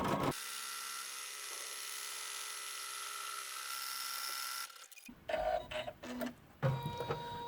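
An embroidery machine stitches steadily in the hoop on a notebook cover with lining and facing fabric, a close, even mechanical whir for about five seconds, then stops and gives way to light handling clicks and taps.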